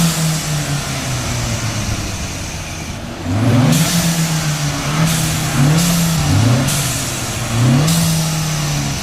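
Two 2018 Ford Mustangs with blow-off valve adapters idle together, then rev in a series of short repeated bursts of rising engine roar, close and loud with no talk.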